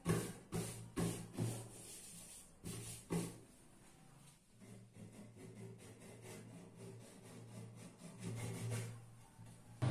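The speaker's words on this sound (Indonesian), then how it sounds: "Untuk bagian sudut yang tidak memungkinkan di trimmer, maka saya amplas aja ya" Corners of a wooden stool are sanded by hand with sandpaper, producing repeated rough rubbing strokes in quick bursts, close up, slowing into softer continuous scraping.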